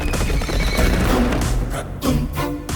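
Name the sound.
horse neighing and galloping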